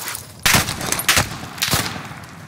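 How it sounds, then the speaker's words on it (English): Bursts of LMG machine-gun fire in the Warzone battle royale game, three loud broadband volleys about half a second to a second apart, heard with no talk over them. "Sounds like an LMG."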